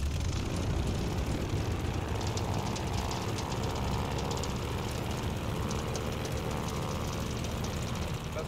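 A fighter plane's engine in Call of Duty Vanguard runs up for takeoff with a steady, loud low roar and dense broadband rumble that holds evenly throughout.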